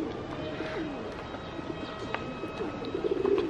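Tame pigeons coo repeatedly nearby in an outdoor spot in Matsumoto, Nagano, with soft low calls over a busy background and a few fluttery bursts near the end.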